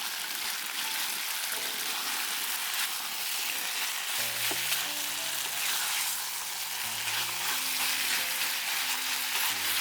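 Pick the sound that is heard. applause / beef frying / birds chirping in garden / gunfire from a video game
beef frying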